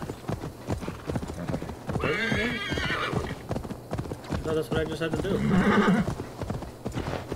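Rhythmic clip-clop of horse hooves with whinnying in the video game Assassin's Creed Valhalla, heard under someone talking and game sounds.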